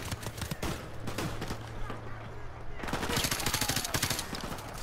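Assault rifle fire with a heartbeat sensor attached, in the Modern Warfare Remastered campaign: rapid bursts of close, loud shots crackle throughout, with a quieter lull before a denser volley near the end.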